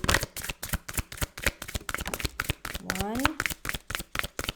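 Tarot cards being shuffled during a reading, a rapid run of crisp riffling flicks close to the microphone, with someone talking briefly over them.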